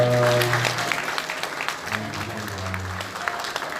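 Wedding guests applaud the groom's grandparents, a steady dense patter of clapping from a crowded hall that fades slightly, with a voice speaking over it at the start and again near the end.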